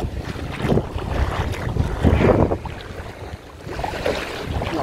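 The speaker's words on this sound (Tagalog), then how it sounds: "Lakas ng hangin eh. Lumalakas na." Strong wind buffets the microphone on a fishing boat at sea, gusting in rough surges with the low rush of waves beneath, and no voices are heard.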